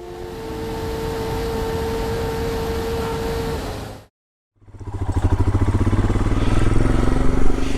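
A loud engine roars steadily, cuts out briefly, then returns with a rapid, pulsing revving that grows stronger, like a powerful motorcycle accelerating close by; the fastest production motorcycle.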